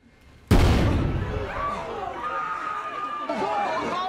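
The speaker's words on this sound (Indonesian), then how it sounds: "kelompok teroris meledakkan pintu chamber" A bomb blows open a chamber door during a terrorist attack on a hotel, a sudden loud blast followed by a long ringing, rumbling decay under panicked voices and crowd noise.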